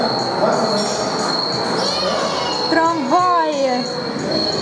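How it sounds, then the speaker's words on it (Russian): A tram running along its track in Istanbul, steady rolling rumble with loud high-pitched wheel squeals sliding up and down mid-passage, and someone talks over it. "Вот на таком вот"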